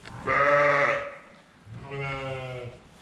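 Two loud, close sheep bleats, a long wavering call followed by a slightly softer one after a short pause.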